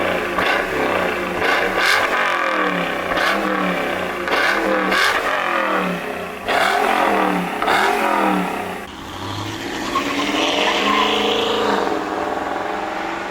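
A 2021 Toyota Tundra V8 pickup with a Corsa exhaust revs repeatedly in loud bursts, then settles into a deep rumbling idle with a rattle near the end.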